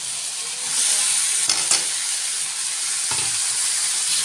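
Elephant foot yam stems dropped into a hot pan, the sizzle swelling sharply and holding as a loud steady hiss, with a couple of brief clatters of stirring.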